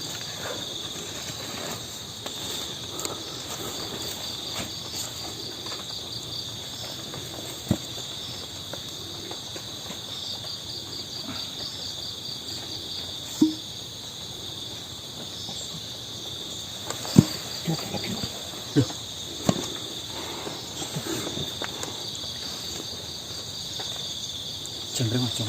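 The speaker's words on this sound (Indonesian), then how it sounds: "Jangkrik Mas, jangkrik Mas." Crickets chirp in a continuous, steady high-pitched drone that fills the whole stretch, with occasional faint clicks and knocks from the surroundings and no clear talk over it.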